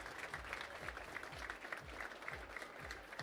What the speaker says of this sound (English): Again, give Will a round of applause for that